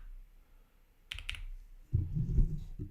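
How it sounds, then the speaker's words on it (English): Clicky computer keyboard typed on during a programming session: a quick burst of sharp clicks is followed by a few heavier thumping keystrokes, close and fairly quiet, with no talking. "your keyboard is very clickety."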